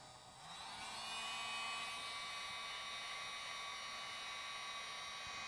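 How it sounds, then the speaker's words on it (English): A hair dryer blasts hot air onto iPhone 6 glass to loosen adhesive during a screen replacement, a steady close whooshing roar with a high whine that starts softly and holds even and loud throughout. "I'm going to use a hair dryer or a hot air gun and give it a little blast of hot air"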